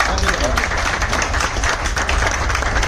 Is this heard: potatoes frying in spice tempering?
no